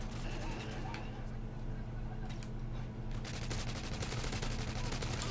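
Gunfire in Modern Warfare 2 on the Scrapyard map, a quick run of close shots at the start, a few scattered cracks, then a dense stretch of rapid automatic fire over steady background noise.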